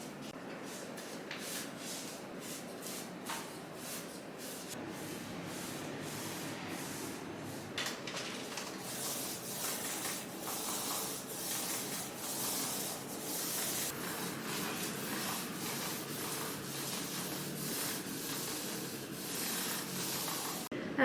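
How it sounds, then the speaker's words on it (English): A paintbrush cuts in paint along wall edges, giving soft continuous rubbing and brushing strokes close by, steady throughout with no talking. "So I'm currently cutting in, and then I will roll up all of the big areas."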